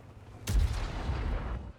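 Object 703 Version II tank cannon fires once in a video game, a sharp loud blast followed by a long rumbling decay that fades after about a second.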